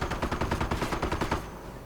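Rapid bursts of heavy .50 caliber machine-gun fire in a World War II strategy game, a fast rhythmic chatter of shots that fades out toward the end.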